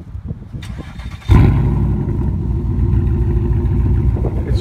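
Straight-piped Pontiac Grand Prix GXP engine cranking briefly, then catching with a sudden loud bark and settling into a steady, deep, rumbling idle up close, alone without talk.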